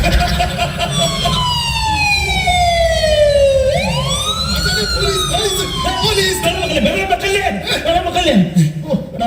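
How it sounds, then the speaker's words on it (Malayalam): An ambulance siren wails loudly, its pitch sweeping up and down in a rising and falling pattern over road traffic, during a comedy skit performed at a parish festival. "അത് പോലീസല്ല, അത് ആംബുലൻസ്."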